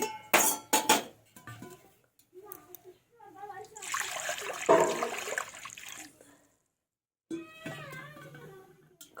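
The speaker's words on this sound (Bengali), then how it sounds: "এবার আমি কড়াইয়ের মধ্যে জল দেব" Water is poured into a wok for cooking lafa greens, a broad splashing rush in the middle of the clip, with clinks and knocks of kitchenware before and after, fairly close.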